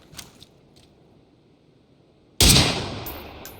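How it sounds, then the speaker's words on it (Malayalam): A single sharp gunshot rings out during an online shooter game, a sudden loud blast that decays over about a second, following a quiet stretch with faint clicks. "അവിടെ അവൻ ഒരു വെടി ഇട്ടു കേട്ടോ"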